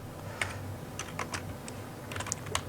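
Light keystrokes on a computer keyboard, a scattered, irregular run of soft clicks at moderate distance with short gaps between bursts, no talking over them.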